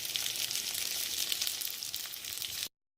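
Keto breakfast skillet pizza sizzling in a pan, a bright, steady close-up frying hiss with small crackles, heard alone and cutting off abruptly near the end.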